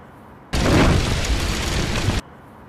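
A loud cartoon-style explosion sound effect in an animated police standoff skit: a sudden broadband blast that roars steadily for nearly two seconds, then cuts off abruptly into quiet.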